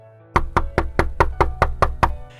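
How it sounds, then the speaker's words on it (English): Knuckles rap on a bedroom door: nine evenly spaced, firm knocks in a quick steady rhythm, close and loud in a quiet room, with no voices. "Somebody knocked."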